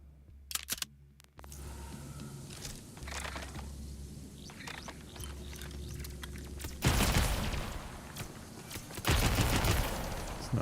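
Bursts of SMG gunfire in Borderlands 4, loud rapid volleys after a lower rumbling game backdrop, with two main bursts near the end.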